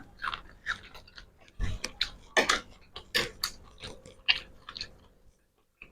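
Close, crunchy chewing of a spicy seafood salad with pork sausage comes in irregular bites and munches, with short quiet gaps between them.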